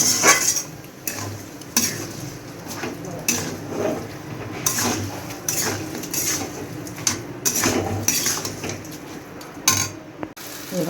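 Rice and spices are stirred into a fish head in a metal pan over a low flame, the spoon clinking and scraping against the pan in repeated strokes beneath a soft, continuous frying hiss.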